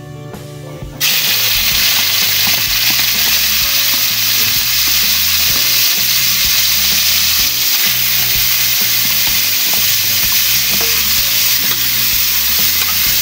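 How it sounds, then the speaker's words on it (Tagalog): Pork sautéing in a hot pan for Filipino pinakbet: after a quiet first second, a loud, sustained sizzle bursts in and continues, with steady scraping and clattering of a utensil stirring the meat up close. "Ilagay na natin itong sahog natin na pork."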